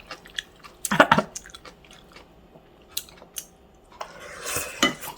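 Close-up eating of seasoned garlic leaves: metal cutlery clinks against a dish, then wet chewing and biting come in scattered bursts, loud near the start and again near the end, with no talk.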